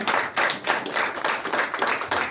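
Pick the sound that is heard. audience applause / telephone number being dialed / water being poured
audience applause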